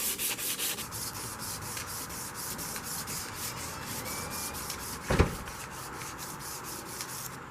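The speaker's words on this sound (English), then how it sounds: "Actually sanding 3 different mediums here. We got wood, brass, and steel." Rapid, rhythmic back-and-forth sanding strokes on wood, brass and steel, steady and close, with one brief louder knock near the end.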